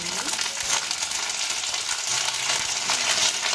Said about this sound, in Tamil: எண்ணெய் காஞ்சதும் கருவேப்பில் ஆட் பண்ணுறேன்